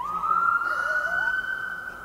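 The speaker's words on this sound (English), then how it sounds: "Some siren action" A Ford Police Interceptor Utility siren wails loud and close in one steady high sweeping tone, rising and falling slightly and held the whole time, with crowd noise faint underneath at an indoor auto show.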